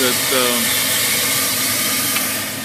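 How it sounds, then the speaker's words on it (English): The blower on an Allen wood-fired steam boiler runs with a loud, steady whirring drone, close by and unbroken, while someone talks over it. "Blower's right here. Probably hear it."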